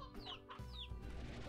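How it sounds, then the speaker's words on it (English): Roosters in the ranching video game Slime Rancher cluck and squawk in a quick, busy cluster, faint and slightly distant over a low ambient game hum. "A lot of roosters."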